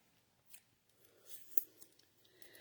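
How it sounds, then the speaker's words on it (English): Scissors snip through paper during a cabin model frame build, a few soft, quiet cuts spaced apart in a calm room, with no talking. "we'll just cut it with scissors."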